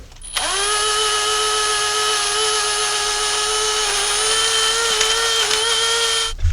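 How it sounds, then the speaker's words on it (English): A wire wheel on a power tool whines steadily and loudly for about six seconds as it scrubs a TH400 transmission pan surface on a 1978 Jeep J10, its pitch holding nearly constant with slight dips under load. "I got any remaining chunks off with the wire wheel"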